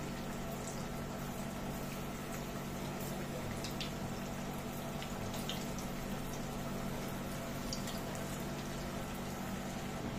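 Balls deep-frying in hot oil on a gas flame on high heat make a steady, dense, bubbling sizzle at low volume, with a few faint pops and no talking.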